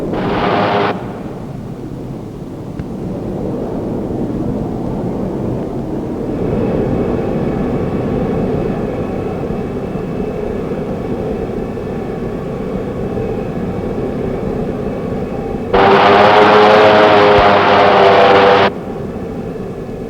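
An M61A1 Vulcan gatling gun fires from an F-18 in two short, very loud ripping bursts, one at the start and a longer one near the end, over a steady rumble of jet noise.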